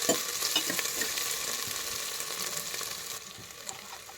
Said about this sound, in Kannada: ಆಲೂಗಡ್ಡೆ ಹಾಕಿ ಚೆನ್ನಾಗಿ ಫ್ರೈ ಮಾಡ್ಕೊಳ್ಳಿ